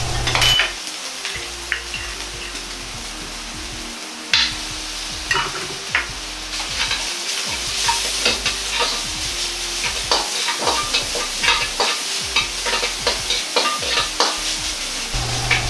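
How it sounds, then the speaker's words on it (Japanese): Minced meat stir-fried with garlic, ginger and doubanjiang for mapo eggplant, a loud, close sizzle broken by frequent scraping and clanking of a spatula against the pan. "ニンニク、生姜、豆板醤小さじ1を入れ炒めます"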